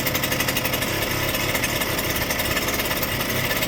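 Small single-cylinder two-stroke engine of a 1979 Suzuki JR50 minibike idling with a loose carburetor clamp, a loud, close, rapid buzzing putter that stays steady and even throughout with no voices.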